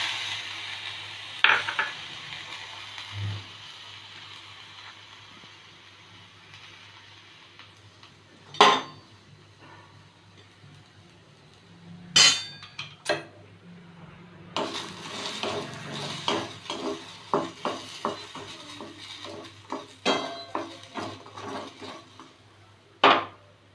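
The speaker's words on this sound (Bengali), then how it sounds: "শুকনো লঙ্কাটা একটু গরম হয়ে গেলেই দেব রসুন।" Dried red chillies heat in a pan while a utensil stirs them, giving sparse metallic scrapes and clinks over a quiet hum, busier toward the end.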